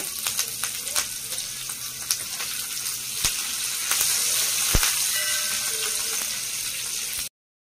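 Green chilli slices sizzle in hot oil in a pan for potato kees, a steady frying hiss with a few sharp crackles and pops, close and fairly quiet, with no talking.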